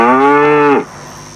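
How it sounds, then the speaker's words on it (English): A single cow gives a loud, close, sustained moo lasting under a second, then cuts off into quiet. "It's a cow."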